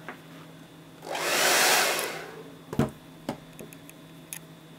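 A handheld heater blows for about a second while warming a Jamberry nail wrap, a soft rushing whoosh that rises and fades, followed by a few sharp clicks and taps nearby.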